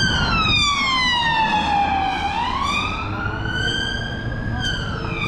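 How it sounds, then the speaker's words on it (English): A police car siren wails up and down on a Tottenham street in London, loud and close, its sweeping tone rising and falling over a bed of traffic noise. "Just another police car"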